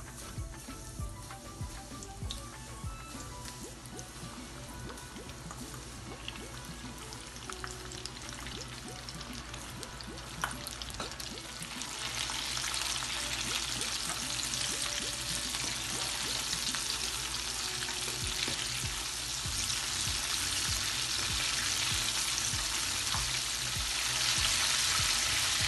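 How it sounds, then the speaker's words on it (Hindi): Chicken teriyaki pieces fry in hot oil with a continuous close sizzle and crackle that swells louder about halfway through, with no talking. "फिर फ्राई करेंगे।"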